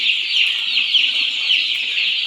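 A dense, continuous chorus of high peeping from many healthy Andijan black breed chicks, close and steady with no pauses and no talking.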